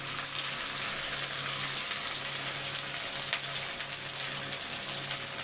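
Garlic, ginger and curry leaves fry in a hot pan with a steady, dense sizzle that holds evenly throughout, close and continuous with no voices over it.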